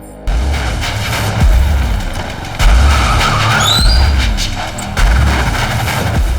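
A car skids on the road in a dramatized crime scene, with loud low rumbling engine surges and a brief high tire squeal amid sharp booming impacts.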